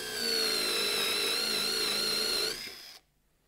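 A Festool 18 V drill bores into fir wood at speed 3 with a steady high-pitched motor whine, close and clear, running for about two and a half seconds before winding down to silence.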